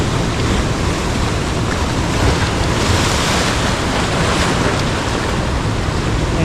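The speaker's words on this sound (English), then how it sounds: "You can see out there the waves and the sets that are coming in." Ocean swell breaking on a Northern Beaches shore, a loud, steady roar of surf with heavy wind buffeting the microphone throughout and no voices.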